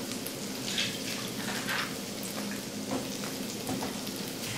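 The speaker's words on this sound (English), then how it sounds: "I'm going to go ahead and put these in my pan so they start cooking down" Chopped vegetables for a Western omelet frying in a pan, a steady close sizzle with soft crackling pops running throughout, no voices.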